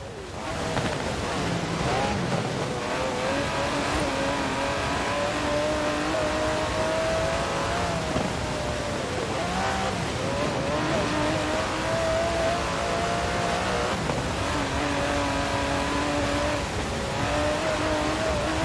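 An Aston Martin DB11's 5.2-litre twin-turbo V12 drones steadily in Forza Horizon 4, its pitch rising and falling with gear changes, under a constant wash of wind and road noise.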